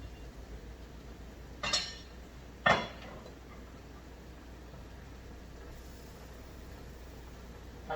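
A whisk clinks against a pot while batter is mixed into a sauce. Two sharp metallic clinks stand out about a second apart over quiet background hiss.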